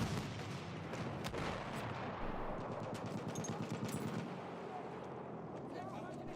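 Rapid automatic gunfire and bursts of shots in a multiplayer shooter's Incursions tournament match on Xbox One, dense crackling volleys under a caster's continuous commentary.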